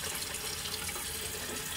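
Hands being washed under running water at a sink with warm water and bar soap, a continuous close splashing hiss with no pauses, brief and unaccompanied by talk.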